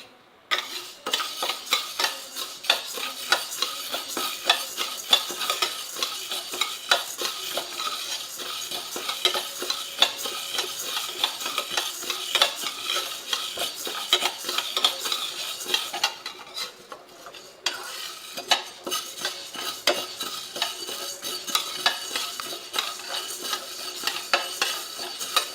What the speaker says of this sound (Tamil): இந்த பாசி பயிர் வறுத்துடலாங்க. கொஞ்சம் கொஞ்சமாக போட்டு செவக்க வறுத்துடலாம்.